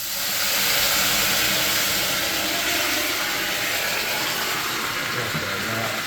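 Steady, loud sizzling hiss of mince frying with a splash of water in a hot pan, a continuous broadband crackle with no talking.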